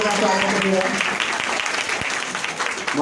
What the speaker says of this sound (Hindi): एक बार फिर जोरदार तालियां। जोरदार तालियों के साथ स्वागत करिएगा।